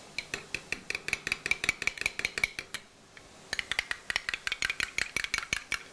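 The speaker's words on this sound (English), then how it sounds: "Just simply mix that until all the mayonnaise is put together." A utensil stirs mayonnaise dipping sauce in a bowl, making quick, steady clinks and scrapes in a regular rhythm with a short pause midway, close and fairly quiet, with no talking.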